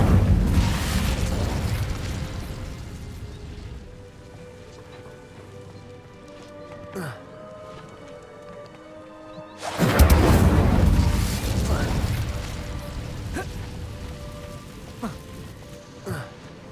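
Incendio fire spell in Hogwarts Legacy, a loud roaring whoosh of flame and explosive burst that fades, then a second big blast erupts, with game music running underneath.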